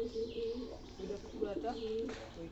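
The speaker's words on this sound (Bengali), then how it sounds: "এই 5টা কবুতর আসছে এখানে।" Pigeons gathering outdoors near coconut trees coo softly and repeatedly in low, throaty murmurs, with a faint voice and other background sounds underneath.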